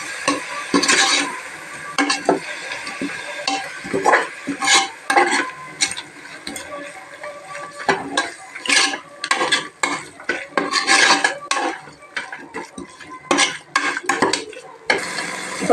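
A spoon scrapes and stirs a ground ginger-garlic and fennel spice paste in a pan for mint biryani, repeated metallic scraping strokes close up with a light sizzle beneath, and no talking.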